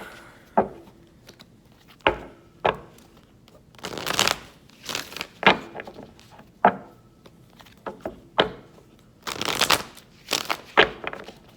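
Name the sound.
tarot cards being taken out and handled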